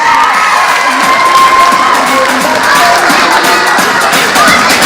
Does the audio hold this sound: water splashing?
no